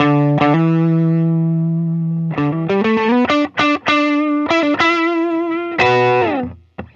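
A 2021 Gibson Custom Shop Murphy Lab 1964 Firebird electric guitar is played through a distortion pedal with its volume rolled back: a held, ringing note, then a quick run of sharp picked notes and a final sustained chord fading out.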